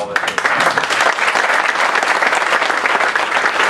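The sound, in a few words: audience applause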